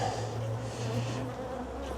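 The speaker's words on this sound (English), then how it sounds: "I'm going to have to move some of these bees again. Yeah, they're really getting aggravated now." Agitated honeybees buzz loudly and continuously around an open hive during a colony split, a dense close droning hum with no talk.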